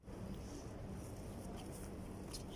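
Wind from a sandstorm in Kuwait roars as a faint but steady broadband rush with low rumble. The sound is continuous and uniform throughout, as if buffeting the microphone, and no voices are heard.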